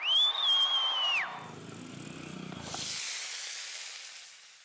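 A loud hiss of spices hitting hot oil rises and fades, after a short high whistle-like tone at the start, with no voices.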